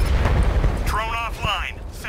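A deep explosion boom in the video game Batman Arkham Knight, a single loud blast at the start fading into rumble while a voice exclaims over it.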